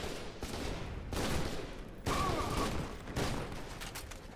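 An automatic shotgun fires in bursts in the shooter game F.E.A.R. 2, with several heavy blasts about a second apart, each ringing out with a rumbling tail and no talk over them.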